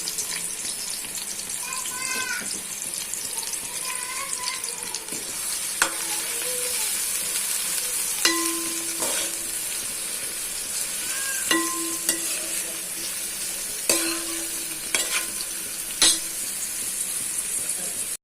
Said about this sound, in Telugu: ఆనియన్స్ వేసుకొని బాగా ఫ్రై చేసుకోవాలి.